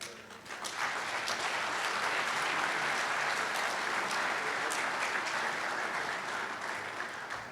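Sustained audience applause at a men's breakfast event hosted by the Newark mayor, a dense, steady wash of many hands clapping at full strength from start to finish, with no talk over it.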